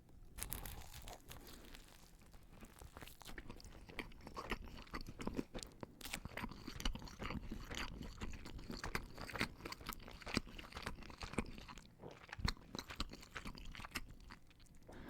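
Close, crisp crunching and chewing of a Hungry Howie's pepperoni flatbread roll, with repeated bites, crinkling wrapper rustles and wet mastication in an irregular rhythm, no talking.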